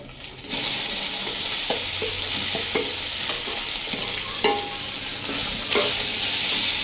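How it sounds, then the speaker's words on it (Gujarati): Potatoes stir-fried in hot oil tempered with asafoetida, curry leaves and a pinch of turmeric give a steady loud sizzle, with spoon scrapes and stirring clatter against the pan throughout. "હવે બટેકાને વઘારી લેશું"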